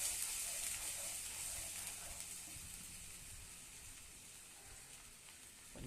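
A ground paste of dry ginger, karpooravalli and tulsi sautés in a pan, giving a steady, faint sizzling hiss that slowly fades over the few seconds, with no talking.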